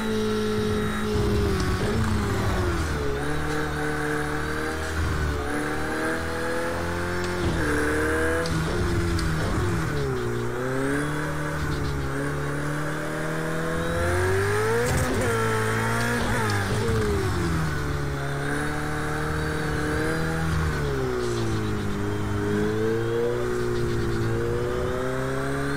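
A race car in Project Cars 2 screams at full throttle, its engine note rising and falling continuously through gear changes with loud, sustained revving and occasional tire noise, and no talking.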